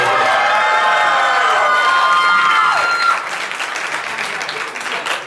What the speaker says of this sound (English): If you liked Cameron's joke, give me a round of applause.